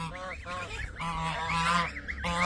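Several geese honk loudly and repeatedly, overlapping calls close by in a noisy flock.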